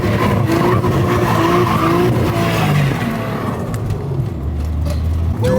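A Nissan R34 Skyline with an open differential, its engine revving loudly while the tires skid and squeal continuously, heard close up without talk.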